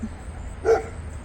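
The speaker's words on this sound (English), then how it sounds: "That is my neighbor's dog." A single short bark from a neighbor's dog rings out once, fairly distinct, over a quiet background with no talking.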